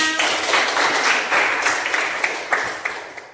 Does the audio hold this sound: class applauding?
yes